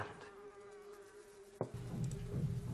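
Carrion flies buzz in a steady, continuous drone with a faint high whine, then a sudden thump at mid-clip gives way to a louder, rougher low rumble.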